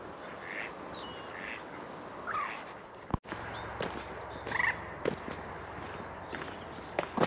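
Ducks quacking at a lake, several scattered calls at moderate distance over soft outdoor ambience and footsteps, with a sharp knock partway through.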